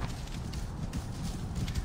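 A horse gallops in Assassin's Creed Origins, its quick steady hoofbeats thudding close and fairly faint under a low rumble, with no talking.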